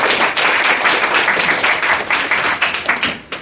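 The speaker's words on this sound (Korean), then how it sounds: "박수로 환영하겠습니다." Audience at a Korean Christian student worship service applauding to welcome a guest preacher, a dense, loud burst of many hands that thins toward the end.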